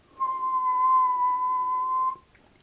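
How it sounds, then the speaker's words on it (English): An Aztec death whistle blown once in a film, a steady piercing shrill tone held for about two seconds, loud and close, then cut off abruptly with no talk. "this is actually the first time that the whistle is blown"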